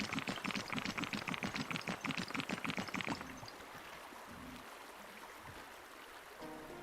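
River water ambience in the indie game MonsterStone, a steady rushing flow heard throughout. It starts under a fast rhythmic pulsing layer, then continues alone as a softer, even wash.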